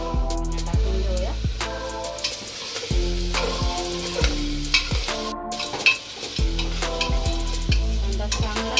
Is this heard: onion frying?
yes